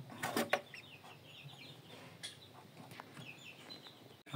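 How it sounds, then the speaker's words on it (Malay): An Indio Gigante chicken clucks a few times at a distance, short scattered calls over a quiet outdoor background. "Ni ayam lagi tadi lah aku keluarkan dari dalam reban tu"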